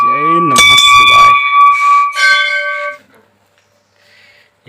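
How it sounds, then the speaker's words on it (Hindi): A metal temple bell rings at the Pateshwar Dham shrine, with several bright clanging strikes whose tones ring on and fade, mixed with a chanting voice before dying away to near silence. "यहाँ पर घंटी बजा देते हैं।"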